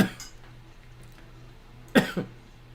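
Two quick coughs close to the microphone, one right after the other, following a quieter stretch with a faint breath at the start.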